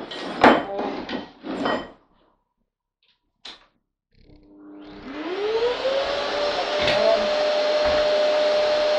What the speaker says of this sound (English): I can use the weight of the chase machine to pull the chase machine down